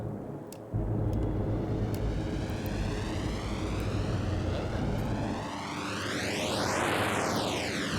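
A spaceship engine in the Star Citizen space game, a dense steady roar with a rising and falling whine sweeping across it like a passing flyover, loud and continuous with no voices.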